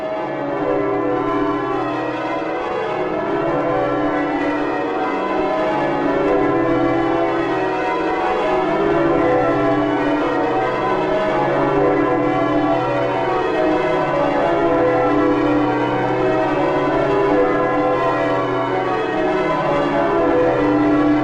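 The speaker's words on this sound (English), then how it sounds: "Aren't them bells lovely?" The church bells of St Mary Redcliffe, Bristol, peal continuously in a 1973 recording, many overlapping tones ringing in a steady, dense cascade that fills the air without pause.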